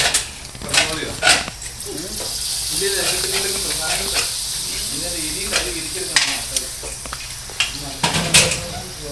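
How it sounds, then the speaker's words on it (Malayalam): Payasam bubbles in a pot during an Onam celebration meal, with a steady sizzling hiss and a spoon scraping and stirring against the vessel throughout, while people talk in the background. "പായസം തിളച്ചുകൊണ്ടിരിക്കുകയാണ്"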